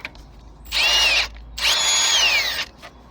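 A power tool whines in two bursts while loosening a power steering pump bolt on a Chevrolet Aveo during auxiliary belt tensioner replacement, the second burst longer, with a quiet pause between.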